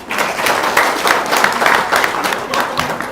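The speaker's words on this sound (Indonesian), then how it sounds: "Ya, tepuk tangan dong." An audience claps steadily for a few seconds, dense and fairly loud, with crowd noise mixed in and no clear voice on top.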